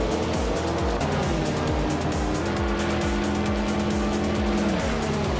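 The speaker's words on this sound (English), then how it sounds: "Nexa Romaval is racing a 1989 Ford Sierra RS 500." A 1989 Ford Sierra RS 500 races in a video game, its engine a steady, loud, buzzing drone with rhythmic gear-shift pulses and rising revs, continuous from start to finish.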